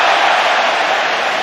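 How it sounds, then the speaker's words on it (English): A football stadium crowd applauds a skill move on the pitch, a dense, steady roar of massed clapping and cheering that holds at an even, loud level throughout. "Crowd applauding the drop of the shoulder."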